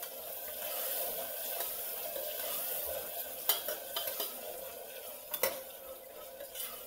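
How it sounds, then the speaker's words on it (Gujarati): Guvar dhokli, a cluster-bean and dough-dumpling vegetable dish with garlic, being stirred and mixed in a pan, giving soft continuous scraping and sizzling with a few sharper clinks of a spoon against metal, close by and with no talk. "આવી રીતે બધું મિક્સ કરી લેવાનું છે."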